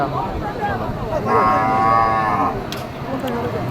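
Cattle at a busy livestock market, one close, loud, drawn-out moo in the middle of the clip, with voices and market chatter going on around it.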